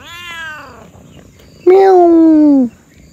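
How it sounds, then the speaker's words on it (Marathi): A cat meows at a festival outing, one long, loud drawn-out meow standing clear above quieter background voices and noise, with a fainter mew earlier. "म्याऊ,"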